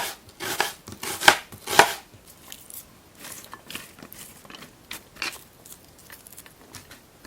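A knife chops onion on a cutting board, with a few sharp, loud strikes early on, then lighter, irregular cuts that thin out. No one speaks.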